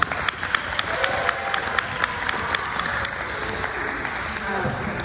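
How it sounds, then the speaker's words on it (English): Audience applauding student poetry recitation competitors, steady dense clapping from a large crowd that carries through the whole stretch with scattered sharper claps standing out. "If you would give yourselves a round of applause for learning your poems."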